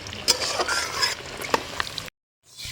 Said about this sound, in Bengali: এবার আলুগুলো ভাজা হবে।